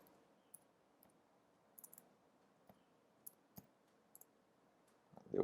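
Keyboard keys on a Linux computer being typed sparsely, soft isolated clicks in small clusters over a faint hum, fairly quiet and close.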